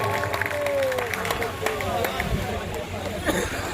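Audience at a mushaira in Deoband clapping for the officials, a loud sustained burst of crowd applause with chatter and voices mixed in.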